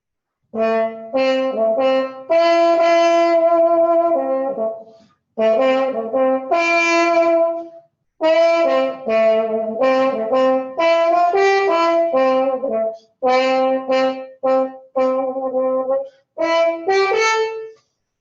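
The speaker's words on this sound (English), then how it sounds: "a cup mute is used, it's a little more mellow sound" A trombone with a cup mute plays a bouncy melodic line in short phrases with pauses between, soft-edged and mellow, close and alone.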